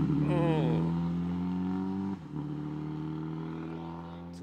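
A WRC rally car engine with a damaged exhaust drones and revs unevenly with a raspy, rough tone, steady and fairly near, with a brief dip partway through.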